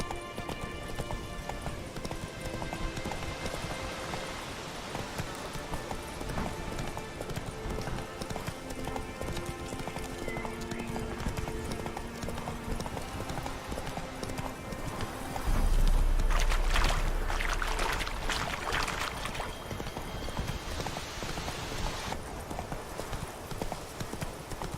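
Roach, Geralt's horse in The Witcher 3, gallops with a steady, rapid clip-clop of hooves that runs throughout, over a bed of game music and ambience, with a brief louder rush midway.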